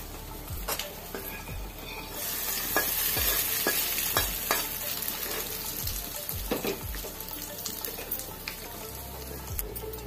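A fried tempering of mustard seeds, cumin, curry leaves, dried red chillies and turmeric is stirred into cabbage tomato chutney. Close, continuous wet scraping and sizzle mix with repeated spoon knocks against the vessel throughout.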